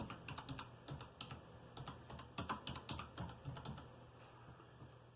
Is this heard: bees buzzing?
no